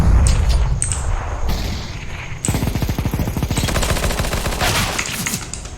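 In the video game CS:GO, a booming grenade blast is followed by loud, rapid bursts of automatic gunfire crackling up close, with no talking.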